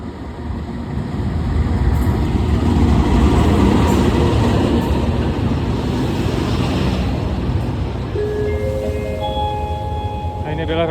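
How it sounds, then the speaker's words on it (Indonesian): The Papandayan passenger train rolls into a busy railway station, a loud, sustained rumble and roar of wheels and carriages close by, with a station announcement chime and tones rising near the end. "ini adalah rangkaian kereta api Papandayan. Dari arah utara"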